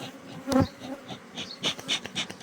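Honeybees from an opened beehive at an apiary, close buzzing and humming with several short louder swells as bees fly near, no speech.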